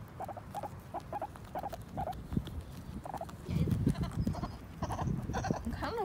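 A guinea pig on grass in a backyard gives repeated short, high squeaks in a quick rhythmic series, faint and close, over rustling and munching noises.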